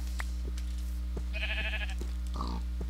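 Sheep in the Minecraft video game bleat several times in short, synthetic bursts over a steady low game hum, fairly quiet and spaced apart.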